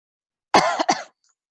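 Two quick, close coughs follow one another in a short burst, with silence before and after.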